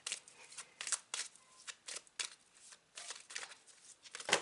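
Soft, papery tarot card shuffling in quick irregular bursts, riffling and sliding, close and fairly quiet with no talking.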